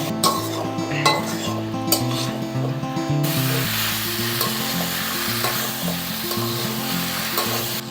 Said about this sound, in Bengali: এখন আমি কাবলি চানাটা দিয়ে দিলাম। দিয়ে এখন আমি ভালো করে আরেকটু কষিয়ে জল দিয়ে